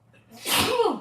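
A single close, forceful sneeze with a short breathy intake before it.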